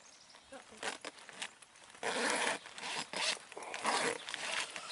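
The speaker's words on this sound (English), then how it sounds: "Hold the zipper and the side separately." A tent zipper is pulled open in several quick, rasping bursts, close by, with some brief speech-like sounds mixed in between.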